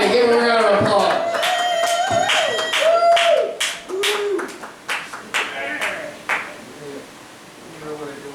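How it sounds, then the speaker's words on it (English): A comedy-club audience claps for a performer while people talk loudly over the clapping, with sharp claps standing out as the talk fades. "Give him a round of applause."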